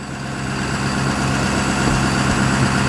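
A 2022 Ford F-350 Super Duty diesel pickup idles on fast idle, a steady low rumble with a mechanical clatter and vibration, loud and close, holding an even level throughout.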